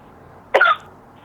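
A single short cough, close and fairly loud, over a quiet background.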